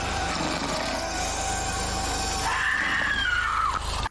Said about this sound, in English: Remember that scream?